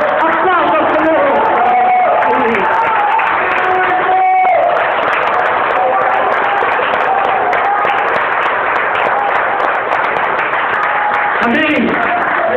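Church congregation clapping and cheering during worship, a loud continuous wash of applause with shouts and whoops mixed in, while voices call out over the crowd.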